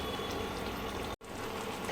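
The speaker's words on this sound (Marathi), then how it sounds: "छानसा मस्त वेगळी उकळा आलं आहे शिंपल्यानं" Mussel curry boiling in a pot, a soft steady bubbling and simmering hiss, faint and continuous with a brief dropout in the middle.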